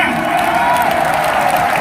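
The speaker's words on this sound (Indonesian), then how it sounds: "tepuk tangan untuk kita semua." Steady crowd applause at a large campaign rally for Anies Baswedan at Jakarta International Stadium, dense and continuous throughout, with a faint murmur of voices mixed in.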